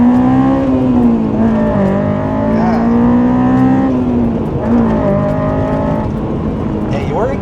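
Honda S2000 with an EVS Tuning single exit exhaust accelerating on the road. A loud, close engine note rises and dips with throttle changes and shifts, and cabin noise sits underneath.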